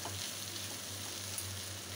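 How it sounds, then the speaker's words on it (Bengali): Potato and fish frying together in a pan give a steady, soft sizzle that carries on evenly with no talking. "আলুটা মাছের সাথে ভালো করে ভেজে নেব"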